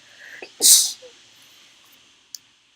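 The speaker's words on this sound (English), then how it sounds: "Give me 1 second, I need to sneeze." A single sharp sneeze bursts out after a quick intake of breath, close and loud, followed by quiet and a small click.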